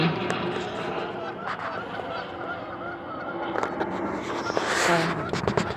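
Geese honk in the morning outdoors, a busy flock calling repeatedly at middle distance, getting louder near the end, while a person talks softly in the background.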